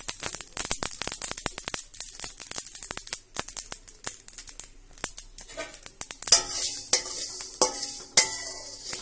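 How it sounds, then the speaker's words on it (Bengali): Mustard seeds splutter and pop in hot oil for an aubergine pickle, giving dense, irregular crackling bursts close by that turn sharper and busier toward the end. "সর্ষে গুলো ফুটতে শুরু করে দিয়েছে"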